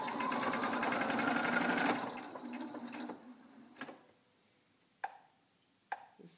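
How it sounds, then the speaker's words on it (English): A school sewing machine runs fast with a dense, steady stitching whir while sewing a fabric mask, then slows and stops, leaving a few sharp clicks and knocks. "I'm going to stitch this on the sewing machine that's from school"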